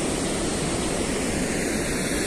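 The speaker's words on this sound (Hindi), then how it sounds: "बहुत मस्त झरना है और यहाँ पर पानी आ रहा है" A waterfall fed by canal water beside a road bridge pours in a steady, dense, loud rush with no break or change, and no voices.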